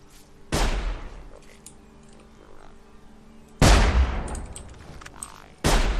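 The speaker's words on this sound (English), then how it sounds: "This rifle's pretty good. It's almost like a one-hit kill every single time." Loud rifle shots in the video game Sir, You Are Being Hunted: three sharp, booming blasts several seconds apart, each trailing off in a long rumbling decay, with no talk.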